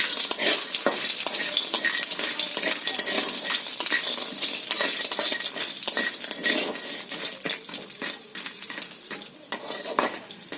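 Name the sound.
frying bori (lentil dumplings) in oil in a kadai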